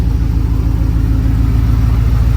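A car engine fitted with exhaust collectors idles loud and close with a steady, throbbing exhaust rumble, no voices.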